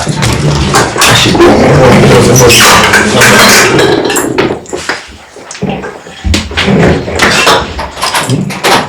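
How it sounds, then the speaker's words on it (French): Loud, clattering thumps and bangs of someone working at a door, repeated in irregular bursts with brief pauses between them. "Il y a quelqu'un qui essaie d'ouvrir la porte"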